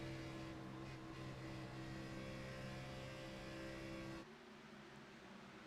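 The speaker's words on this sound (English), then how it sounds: "you heard Anderson in the 82 TJ's team car just feathering the throttle out of 4" Travis Anderson's No. 82 TJ's team stock car in an Xfinity Series race, its engine droning steadily at high revs before the note suddenly drops as the throttle is feathered coming off turn four.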